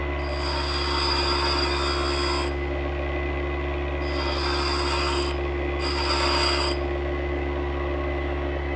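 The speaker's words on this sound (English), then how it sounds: "So we'll just go to the front of the wheel and just grind a little bit on the corner." A bench grinding wheel shaping the corner of a 6mm hexagon D bit cutter with a 1.5mm radius, giving three steady rasping bursts of a few seconds each over a constant motor hum, close and fairly loud.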